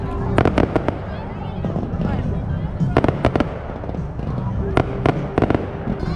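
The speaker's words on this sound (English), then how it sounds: "As with everything else in Alaska, we love celebrating with lots of fireworks." Fireworks burst at an Alaska celebration in quick clustered volleys of sharp cracks, some nearby and loud, over a steady background of crowd murmur and talk.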